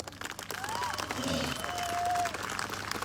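An indoor audience at a speaking event gives a short burst of applause, the clapping of a crowd heard at moderate distance with some brief tonal sounds over it.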